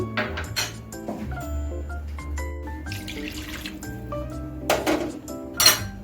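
Water pours into a pan of cooked masala for a gravy, with running water, clinks of utensils against the pan and a few brief splashes, close and clear with no voices.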